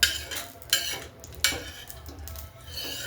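Coconut is stirred as it roasts in oil in a pan, with scraping strokes of a spoon against the metal at a slow, regular pace and a soft sizzle running underneath. There is no talk.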